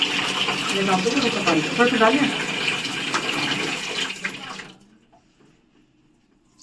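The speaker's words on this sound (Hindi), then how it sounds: "इसलिए अब उनके जूते धो रहे हैं।" Running water splashes steadily while dirty shoes are washed, then cuts off abruptly, leaving near silence.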